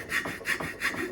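A band saw cuts wood for a carved greater scaup duck, three rhythmic rasping strokes in just over a second, close and fairly quiet, with no talking.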